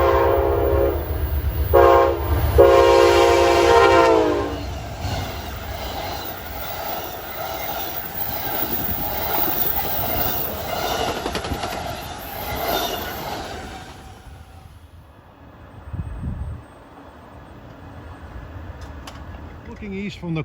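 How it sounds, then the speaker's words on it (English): A train on the Mohawk Valley main line rumbles past loudly with a horn blast, rolling wheel noise and clatter that fades to quieter ambience, with a voice talking over part of it. "another train at 219, the Lakeshore Limited from Chicago to Boston and New York"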